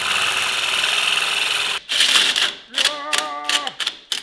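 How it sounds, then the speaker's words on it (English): A cheap power drill whirs steadily, then stops and restarts in several short bursts with a rising and falling motor pitch near the end, alone without talk. "This is a pretty cool drill I've stolen."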